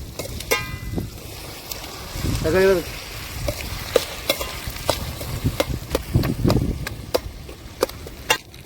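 Tomatoes fry and get stirred in a pan, with soft sizzling beneath repeated scraping and clacking of a utensil, plus a brief whistling tone partway through.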